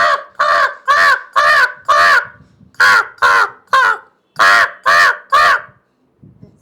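A man imitates a crow, producing about a dozen loud, harsh caws in quick bursts with short pauses between them, close up and with nothing else around.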